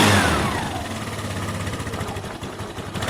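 A Vespa 50 moped engine runs close by in a poor, botched state, starting with a loud rev that falls away into a rough, buzzing putter with a pulsing, uneven rhythm and no talking over it.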